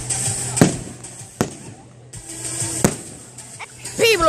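Fireworks bursting at a Great Yarmouth display, several sharp booming explosions spaced a second or so apart, loud and near, with crackle between and voices talking underneath.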